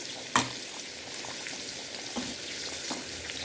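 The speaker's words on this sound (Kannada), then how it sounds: "ಇವಾಗ ಪನ್ನೀರ್ ಫ್ರೈ ಆಗಿದೆ, ನಾನು ಪನ್ನೀರ್ ಹಾಕೋತಾ ಇದ್ದೀನಿ" Fried paneer being added to kadai gravy in a pan, with a faint bubbling sizzle and a single sharp clack near the start. The whole thing is quiet and close-up, with no one speaking.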